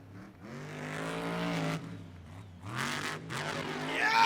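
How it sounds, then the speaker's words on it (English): A monster truck engine roars and revs hard during a jump at a stunt event, loud and close with rising and falling pitch and a brief drop in the middle. "that truck looks like it's landing pretty good for Adam."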